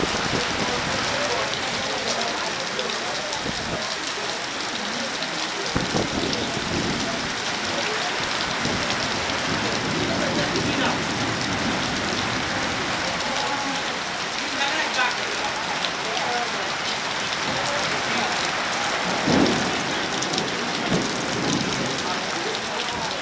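Steady, dense rainfall pours down on surfaces nearby, a continuous hiss with scattered heavier drops for the full stretch and no voices.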